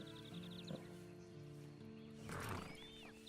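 A horse in the video game Red Dead Redemption 2 gives a short snort and a louder whinny over steady game ambience and music, with faint hoof sounds.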